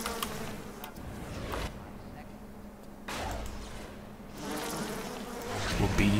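A buzzing bee swarm plasmid attack in Bioshock, a dense droning insect hum that surges in waves, with someone talking over it at points.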